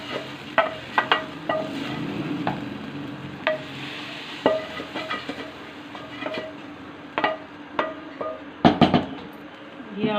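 Fried masala stirred into a pot of dal, with a soft sizzle under repeated sharp clinks and scrapes of a spoon against the pan, close and intermittent.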